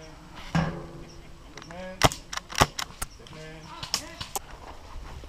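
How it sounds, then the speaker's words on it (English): Suppressed SSX-303 semi-automatic sniper rifle fires in a video game, giving several sharp muffled cracks at irregular intervals, some in quick pairs, over ambient game sound. "With the suppressed SSX-303, it will take them a while to figure out where I'm hiding."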